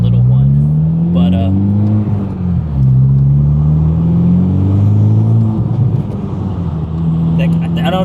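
A Honda Civic Type R FK8 fitted with a Greddy DDR resonated exhaust drones steadily nearby, its pitch rising and falling through rev changes, with someone talking over it throughout.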